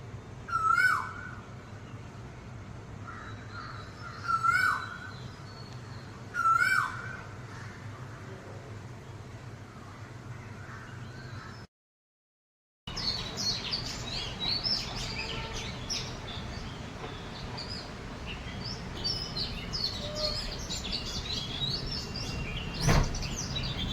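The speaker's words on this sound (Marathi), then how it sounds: "मी आधी एक क्लिप शूट केली होती पक्ष्यांच्या आवाजांची" Three separate bird calls ring out against a quiet backdrop, then after a short break a busy chorus of chirps and tweets carries on steadily.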